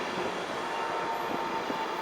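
Train at Peterborough station, a loud, close rumble of rolling stock passing steadily with no pauses.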